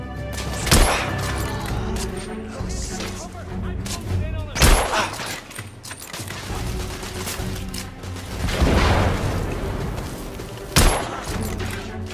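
Shotgun blasts in The Order: 1886 video game land as a few loud, widely spaced booms over constant combat noise, with voices shouting between shots.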